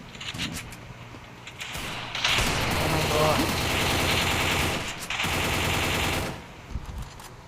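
Rapid automatic gunfire from a Counter-Strike match, loud dense bursts lasting a couple of seconds each with short gaps between, mixed with other game effects.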